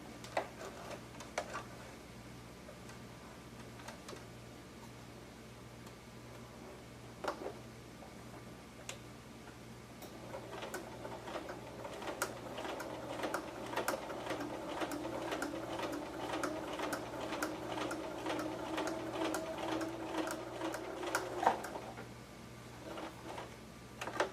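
A domestic sewing machine set to its longest stitch runs through cotton bag panels backed with Peltex, its needle ticking in a quick steady rhythm for about ten seconds after a few isolated clicks, close and moderately loud.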